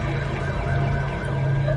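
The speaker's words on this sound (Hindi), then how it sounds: "पुलिस की गाड़ी दिख रही है।" A police car siren sounds steadily and loudly throughout, a continuous tone with no other sound over it.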